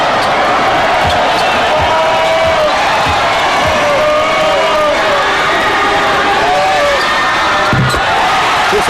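A basketball arena crowd at the Asian Games roars after successful free throws in Gilas Pilipinas vs Iran, dense sustained cheering and whoops with broadcast commentary voices mixed underneath.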